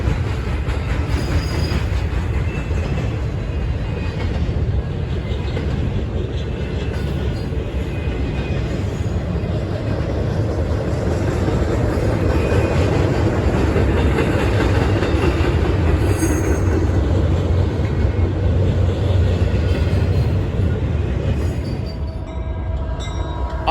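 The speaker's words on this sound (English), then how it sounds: "It would be an eastbound NS intermodal train consisting of some trailers and rolling stock." An eastbound Norfolk Southern intermodal train carrying trailers rolls across the Cuyahoga River drawbridge, producing a steady, loud rumble of wheels and rail clatter with faint squeals, sustained for the whole stretch without speech.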